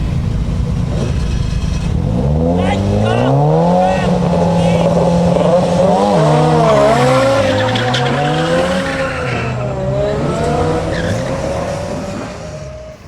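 Two old Japanese cars, a Nissan 240Z and a Hakosuka Skyline, roar through an illegal street drag race, engines revving and sweeping up in pitch with tire squeal, loud and close throughout with voices mixed underneath.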